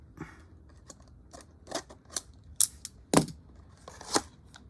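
A small cardboard box holding accessories for Jurassic Park x Transformers figures is opened up close, giving scattered sharp clicks, taps and brief tearing scrapes with pauses between them and no one talking.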